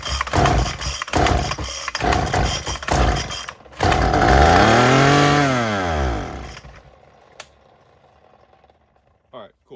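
A Craftsman two-stroke string trimmer, primed with gas down the intake, fires briefly after pull starts, with a few rough close cranking pulls, then a loud revving burst that winds down, followed by near silence and faint clicks.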